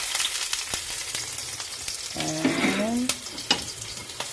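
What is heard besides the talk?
ginger, garlic and onions frying in pan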